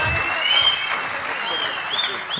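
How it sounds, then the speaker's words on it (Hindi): Audience applauding at a Hindi kavi sammelan poetry recital, a dense, steady wash of clapping filling the whole moment with a few louder swells. "एक बार जोरदार तालियां।"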